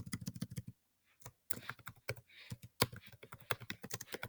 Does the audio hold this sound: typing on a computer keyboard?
yes